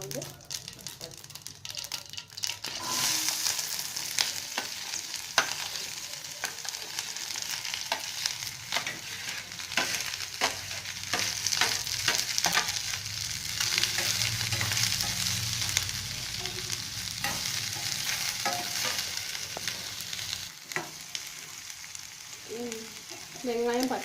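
Onions and green chillies sauté in a hot pan for black pepper country chicken, with a steady, loud sizzle throughout and spatula scrapes and stirring, while a person talks over the cooking.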